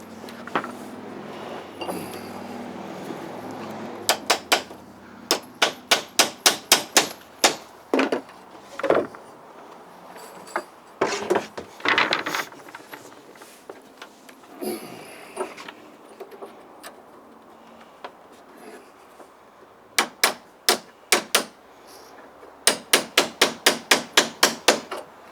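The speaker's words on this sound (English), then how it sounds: "Start nailing off." A hammer drives nails into boards at a butt joint, landing in quick bursts of sharp, loud, evenly spaced strikes, separated by pauses and quieter shuffling.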